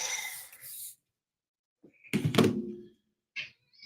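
A cat lets out one drawn-out meow nearby, between faint breathy noises and a soft knock, with a brief squeaky cry after.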